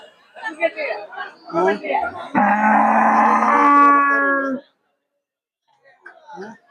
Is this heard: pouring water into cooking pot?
no